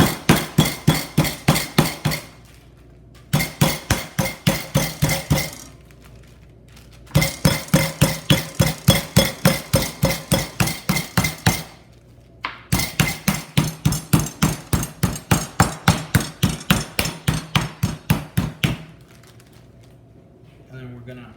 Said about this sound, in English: We're gonna go ahead and tenderize this as thin as we possibly can.